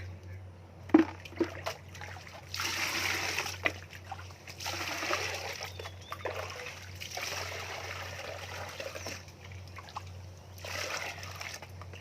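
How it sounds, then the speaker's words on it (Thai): Water poured and mixed into a chili fertilizer solution, with splashing and trickling that comes and goes in bursts over a steady low hum and a few knocks. "ทีนี้เราก็จะมาผสมน้ำนะคะ"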